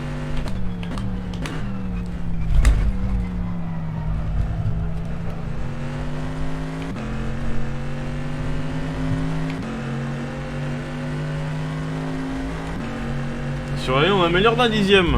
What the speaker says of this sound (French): Donc voilà pour cette magnifique Cadillac du Konica Minolta.